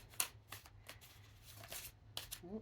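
Tarot cards being cut and shuffled, a few quick riffling and flicking bursts, close and faint, ending with a brief voice.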